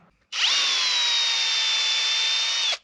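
A power drill turning a reamer spins up and runs steadily for a couple of seconds with a high, whining tone, then stops abruptly.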